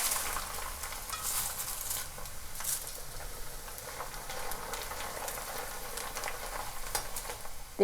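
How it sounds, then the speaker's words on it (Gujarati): Corn poha fries in hot oil with a steady crackling sizzle and soft patter, occasional stirring scrapes over the bubbling, fairly quiet and continuous. "તો આવી રીતે બધા પૌવાને તળી લઈશું"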